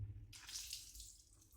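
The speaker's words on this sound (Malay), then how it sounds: "So buka air." Water gushing from a newly replaced household water tap, a steady broadband rush starting abruptly about a third of the way in and continuing fairly loud to the end, with low hum beneath.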